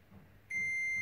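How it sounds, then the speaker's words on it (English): A multimeter in continuity mode sounds a steady electronic beep when its probe touches the gate pin of a MOSFET on an Arduino Mega board under repair. After a half-second of low hum the beep starts abruptly and holds, loud and close. "and if you get a beep out of the first pin"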